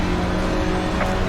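A small turbocharged engine of an Alpine GT4 race car in a racing game drones steadily and loudly at high revs for a brief moment, with no talk over it.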